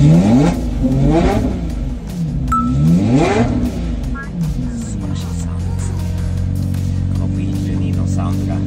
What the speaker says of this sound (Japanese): ランボルギーニは1ヶ月ぶりに出したかな。